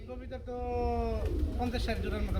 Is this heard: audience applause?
no